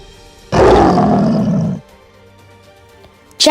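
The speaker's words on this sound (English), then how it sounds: "A Lion Must Roar." A lion roars once, loud and close, a powerful rumbling bellow lasting just over a second before fading, followed by quiet and a brief sharp noise at the end.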